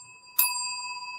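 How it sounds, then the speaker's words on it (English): A single bright bell is struck once after a brief quiet moment and rings on with a clear sustained tone that slowly decays, with no voices over it. "A couple of bells for that."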